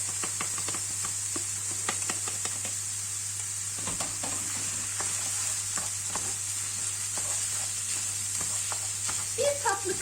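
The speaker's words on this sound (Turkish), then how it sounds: "Şimdi de pirincimi, iki su bardağı ısladığım pirincimi de ilave ediyorum içerisine." Soaked rice, two glasses' worth, tipped into a pan of sizzling roasted livers for chicken stuffing pilaf, giving a steady frying hiss with soft stirring scrapes and clicks throughout.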